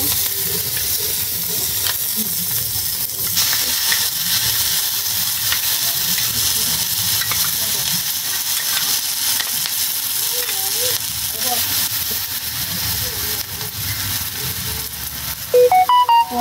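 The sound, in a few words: chicken gizzard frying in a pan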